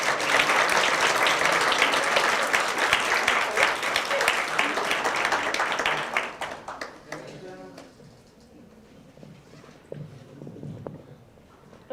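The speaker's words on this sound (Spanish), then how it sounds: "Por favor, démosle un aplauso para darle la bienvenida" An audience at an academic talk applauds to welcome a speaker, loud sustained clapping that fades out after about six seconds, followed by a few scattered claps and a voice starting to speak.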